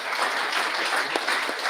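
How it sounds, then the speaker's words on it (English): Audience applause breaking out at an auction, a steady wash of many hands clapping at moderate volume, continuous through the short moment with no voices standing out. "Let's give him a round of applause as he comes."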